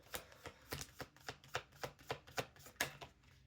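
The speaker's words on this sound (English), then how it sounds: "let me just shuffle the deck" A deck of tarot cards is shuffled by hand in about a dozen quiet, evenly spaced riffling strokes, close up, with no talking.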